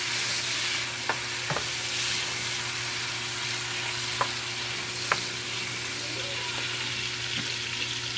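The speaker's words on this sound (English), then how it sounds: "You stir when you add it." Stew being stirred in a pot with a faint steady simmer and sizzle underneath, with a few sharp clinks of the spoon against the pot; quiet and close, with no voices.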